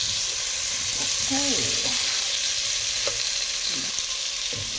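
Crab simmers in coconut milk while a spoon stirs it, making a continuous sizzle with scraping strokes. A voice briefly says a word near the end.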